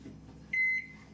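A microwave oven running with a bowl of dairy milk chocolate, Nutella and a little oil inside, giving a short steady electronic hum that swells for a moment, faint and close.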